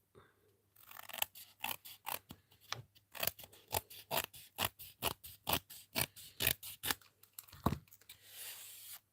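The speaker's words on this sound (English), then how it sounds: "I'm just trimming it just slightly smaller" Scissors trimming a sheet of card for cardmaking: a long run of crisp, evenly spaced snips, close and fairly quiet, with no talking.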